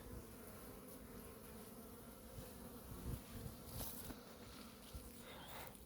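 Honeybees leaving a hive on a winter cleansing flight in Vinnytsia region, a steady droning buzz of many insects with individual bees whizzing past close to the microphone.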